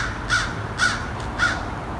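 Wild crows caw three times at an even pace, answering a Haydel's crow call. Each call is loud and clear over steady outdoor background noise.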